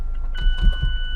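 Retractable hardtop of a Mazda MX-5 Miata RF lowering automatically, a short steady electric motor whine with a few mechanical clunks inside the car.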